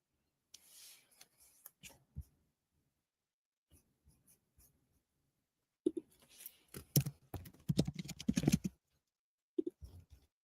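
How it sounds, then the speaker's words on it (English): Quick bursts of clacking keystrokes, sparse at first and then a dense, forceful flurry of typing close by, with a few final taps. "Am I typing really aggressively, Christopher?"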